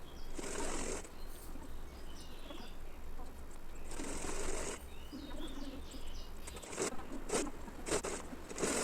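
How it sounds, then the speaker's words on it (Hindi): Short bursts of close machine whirring come from a sewing machine stitching the seams of a Patiala salwar, with a steady background hum and brief clicks between runs. "तो अभी हम सिलाई लगा लेते हैं इसमें।"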